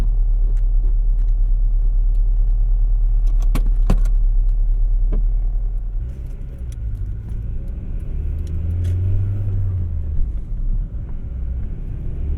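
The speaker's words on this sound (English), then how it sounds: "Engine start sounds very familiar." Replica Honda Integra Type R with a 5-speed manual, its engine running close by with a deep steady rumble, then rising into a revving idle with a shifting tone partway through.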